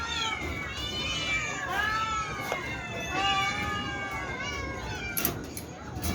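Several cats meow repeatedly and restlessly just before feeding, their rising and falling cries overlapping close by at a steady volume.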